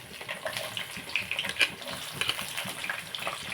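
Onions dropped into hot oil for a chicken fry, giving a steady crackling sizzle with brief brighter pops, close and moderately loud, with no talk.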